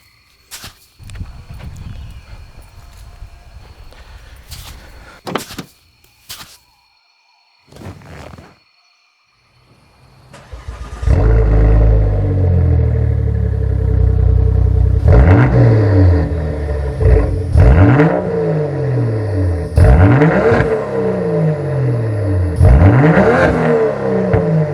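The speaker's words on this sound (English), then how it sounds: "This is a 3-liter inline 6, but it's in a transverse layout." Transverse-mounted 3-liter inline-six car engine starting after some clunks and door thuds, then settling into a deep idle with repeated sharp revs climbing and falling, loud and close.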